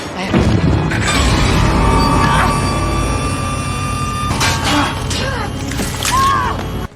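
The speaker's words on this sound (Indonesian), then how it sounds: "Salah satu mobil berhasil meledak" A car explodes with a loud, booming blast and crashing debris, dense and sustained, followed by more impacts and clatter over a rumbling background.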